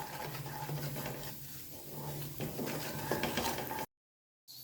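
Semolina roasting in ghee in a pan for a winter trunglaa dessert, stirred steadily, giving a continuous close scraping, grainy shuffle with faint sizzle, ending in a brief silence before the sound resumes.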